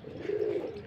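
Pigeons coo in a backyard coop where hens are also kept, a single soft, throaty coo rising and swelling near the middle of a short moment, close and moderately loud.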